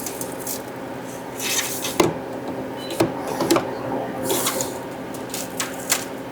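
The door of a Harvest Right freeze dryer is opened after its drain valve is released, with freeze-dried eggnog inside. Close metallic clunks and rattles come with short bursts of airy hiss.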